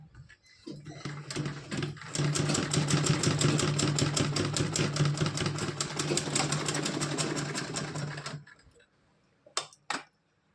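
A sewing machine stitches a doll's dress for Kanha ji in one long, rapid run of close, rhythmic needle clatter that stops abruptly, followed by a couple of brief clicks.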